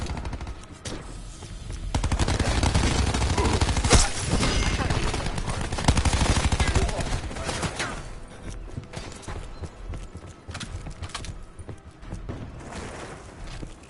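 Rapid bursts of gunfire from Call of Duty Black Ops 4 beta multiplayer crackle and rattle almost continuously, loud and dense, with other game effects mixed in.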